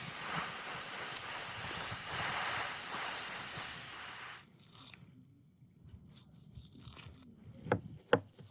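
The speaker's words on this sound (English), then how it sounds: "I'm chopping onions and red cabbage now to fry together with the leftover goose pieces." A knife chops onions and red cabbage on a board in a mountain village kitchen: a few sharp, close cuts land near the end after a stretch of steady outdoor hiss and near silence.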